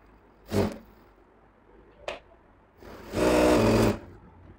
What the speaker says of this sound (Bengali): মুড়িটা আগে সেলাই করে নেবেন।